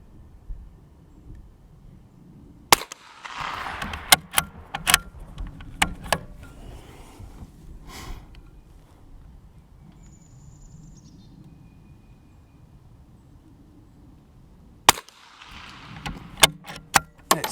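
.22lr rifle firing Federal Hunter Match ammunition outdoors at a 50-yard target: sharp, sudden cracks spaced several seconds apart over quiet open-air ambience with faint bird calls and a brief thin whistle.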